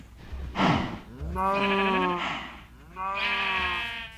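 Sheep in Minecraft bleat three times in a row, drawn-out wavering calls with short pauses between, loud and close with no talking.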